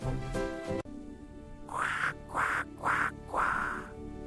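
A duck quacks four times in quick succession, bright and close, after a brief burst of other sound at the start.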